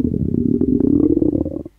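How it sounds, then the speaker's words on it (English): A mole character's stomach rumbles in a point-and-click adventure game on Android: one close, loud, gurgling growl lasting under two seconds that fades out abruptly at the end. "The sound coming from Moles the Mole's tummy shed some light on the whole story"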